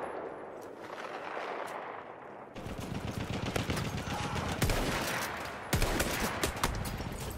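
Gunfire in the video game Brokenfield: quiet at first, then dense rapid volleys of rifle and machine-gun shots, with sharp louder cracks standing out amid continuous battlefield fire.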